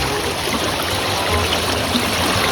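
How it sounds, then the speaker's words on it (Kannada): Fast-flowing stream water rushes steadily at night during crab hunting, a loud, close, unbroken wash of noise with no voices. "ನೀರು ಮಾತ್ರ ಗನ್ನ ಸ್ಪೀಡಲ್ಲಿದೆ"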